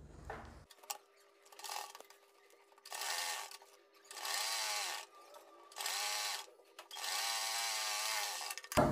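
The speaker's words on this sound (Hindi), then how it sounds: "यहाँ से सिलाई लगाकर नीचे तक इसको अटैच कर देंगे।" An electric sewing machine stitches a neck strip onto a kurti, running in several loud, steady whirring bursts separated by short pauses.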